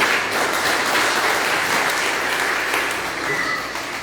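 Congregation at a church revival service applauding together, a dense, steady wash of many hands clapping at close range that holds for several seconds without speech.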